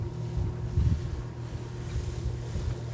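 A Ranieri International motorboat's low engine drone hums steadily as water rushes and wind buffets the microphone, the hull swishing through a turn.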